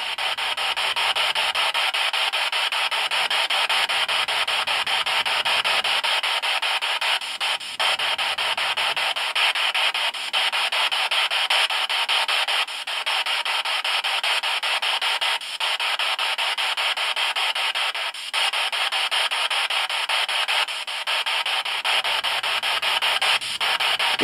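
Loud, continuous hissing static from a spirit box radio sweep fills an attic, with faint rhythmic breaks as the scan steps through stations. It runs alone without talk.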